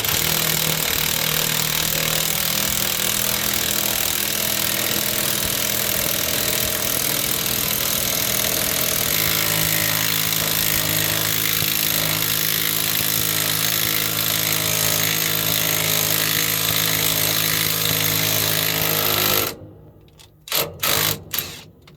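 A tool presses bolt-in bearing caps into an International engine, giving a loud steady mechanical whirring drone that shifts pitch partway through, then cuts off and leaves a few short bursts.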